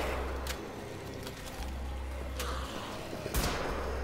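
A double-barrel shotgun fires in Wolfenstein The Old Blood, giving a few sharp, widely spaced blasts over a low, constant game rumble, fairly faint and without talk.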